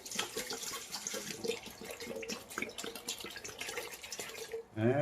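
Plain water pours from a plastic bottle into a cooking pot, a continuous splashing, gurgling stream close by that cuts off near the end.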